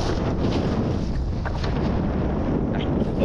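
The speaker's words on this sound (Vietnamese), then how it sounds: "Này gió quá kéo không nổi, gió quá trôi xuống, gió đưa xuống kéo không nổi" Strong, steady wind roars over a boat at sea while pulling traps in stormy weather, a dense unbroken rush with gusty low rumble and no voices.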